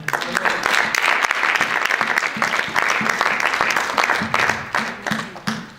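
A church congregation applauds at a Sunday service, a dense, sustained roar of many hands clapping together that stays loud throughout, with a few sharper individual claps near the end.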